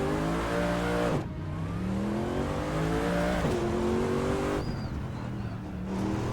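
A racing car engine in the Assetto Corsa video game revs hard through rising gear pulls, with clear upshifts cutting the tone roughly every two seconds, loud and close with no talk.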